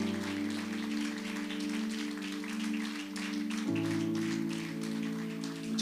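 Church congregation keeps up applause to the Lord, a diffuse patter of many hands blended under steady held keyboard chords that shift to a lower harmony midway.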